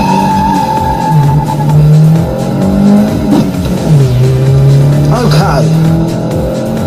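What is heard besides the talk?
car driving fast on a race track, tires squealing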